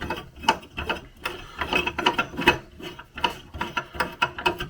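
Small nuts being threaded and tightened onto the back of a dashboard dial in a Reliant Kitten car, giving close, rapid ratcheting clicks and light mechanical rattles in quick bursts throughout.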